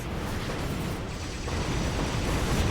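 Continuous loud, booming blasts and rumbling roar from explosions in the video game Skul: The Hero Slayer, dense and unbroken, swelling slightly toward the end.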